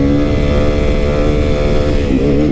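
A motorcycle engine roars loud and close, holding a steady high rev for a few seconds with a slight shift in pitch near the end while the rider pulls wheelies.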